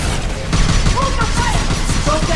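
Automated turret fire from Mass Effect 2, a dense sustained burst of rapid shots with clattering hits and electronic tones, loud and close throughout.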